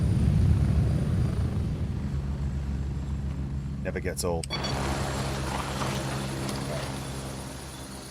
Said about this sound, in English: Chopper's gone.